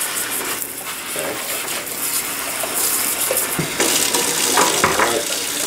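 Water runs from a tap nozzle, rinsing pulp off a part of a Black and Decker juicer over a sink, a steady splashing gush with shifting spray as the part moves under the stream.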